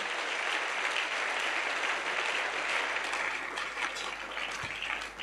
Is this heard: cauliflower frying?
no